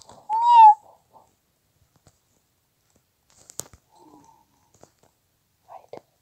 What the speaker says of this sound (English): Little meow meow voice I just heard.